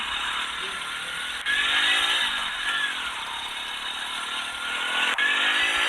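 A Honda Activa scooter rides along with a steady, buzzing engine drone and shifting whine, fairly close, with a couple of sharp knocks or bumps breaking the continuous hum.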